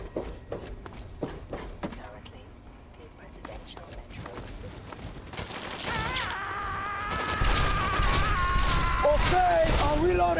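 Sustained bursts of turret gunfire in the game Fallout 3, scattered shots at first building into a loud, dense rattling barrage, with someone talking over the fighting.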